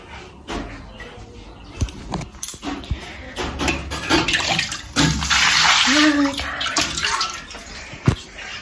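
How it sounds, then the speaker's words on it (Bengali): Running water splashes over feet being washed, an irregular wet pouring with brief knocks and thumps, rising to a steady gush near the end. "পাটা আগে ধুই, পায়ে পায়ে লেগে গেছে"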